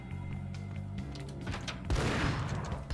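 A grenade blast in the Max Payne video game: a sudden heavy boom with a broad crackling burst rolling out after a stretch of game clatter and gunfire, loud and close, no voices.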